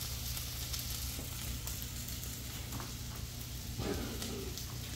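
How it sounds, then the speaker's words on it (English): Hash browns fry in a pan with a steady, close sizzle running throughout, the crackle rising slightly near the end. "look at those hash browns toasting up really pretty and golden"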